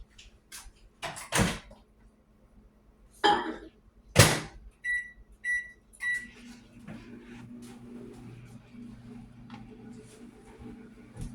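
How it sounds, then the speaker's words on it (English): Door clatters and thumps, a few quick beeps, then a microwave oven hums steadily as it starts running, heating milk. "probably about 20 seconds in the microwave"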